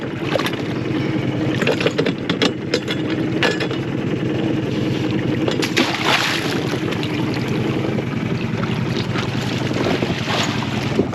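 A sailboat's engine motors steadily on a windless, calm day among Fiji's Yasawa islands, a constant low droning hum with a faint washy hiss over it and no voices.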